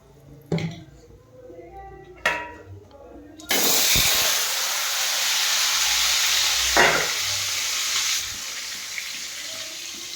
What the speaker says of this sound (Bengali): এবার এই আলুটাকে দেবো ভাজবো এই আলুটাকে ভাজবো